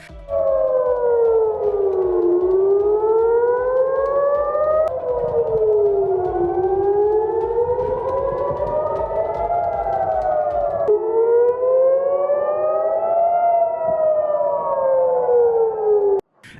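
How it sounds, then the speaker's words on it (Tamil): Air raid sirens in Haifa and Jerusalem wail continuously during an Iranian missile attack, rising and falling in long slow sweeps, loud and steady throughout with no other sounds. "ஹைஃபா மற்றும் ஜெருசலேமில் அபாய ஒலி முழங்கின"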